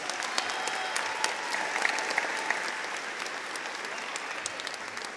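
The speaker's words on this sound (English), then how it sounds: "If we could give them a round of applause." Sustained applause from a crowd at a high school commencement ceremony, steady and dense clapping that fills the hall with no voices over it, honoring graduating and retiring staff.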